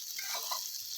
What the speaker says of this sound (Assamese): 5 মিনিটমান এইদৰে লৰাই থাকিব।